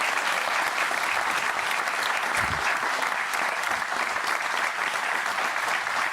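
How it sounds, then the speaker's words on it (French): A studio audience on a live French television broadcast claps steadily, a dense, even wash of applause that holds at full strength for the whole stretch with no pauses or voices on top. "Bravo, applaudissements."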